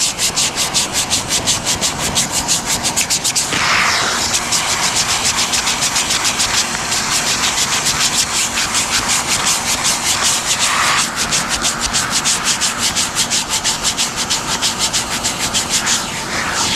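Steady rhythmic scratching of a sanding block rubbing by hand across a primer coat on fiberglassed plywood, continuous and close, with a brief pause and shift in stroke partway through.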